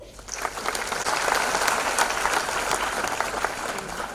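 Sustained applause from an event audience marking the 29th anniversary of an arts organisation at a birthday celebration, steady dense clapping filling the room without a break.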